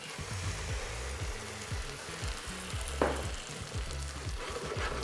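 Vodka poured into pasta sauce simmering in a pan, a soft, steady sizzle and bubbling with a brief sharp hiss as the liquid hits, fairly quiet and close.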